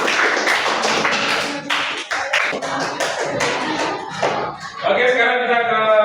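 Students in a junior high science class clap for a group, scattered uneven claps over classroom chatter, with a voice speaking near the end.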